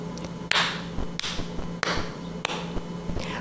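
Evenly spaced taps beat out quarter notes in 4/4 time, each one sharp and distinct, repeating at a steady pulse over a constant low background hum.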